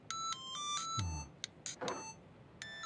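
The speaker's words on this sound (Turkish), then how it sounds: "Yok ya, hala çaldırıyor." A phone rings insistently with repeated electronic chime tones in short bursts, clear and fairly near, over a quiet room.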